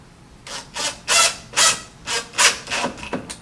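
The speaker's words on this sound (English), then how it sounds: "drill them right into place" A drill drives half-inch flathead screws into cabinet wood to fit hinges, in a series of short, rhythmic whirring bursts, close and fairly loud, with no talking.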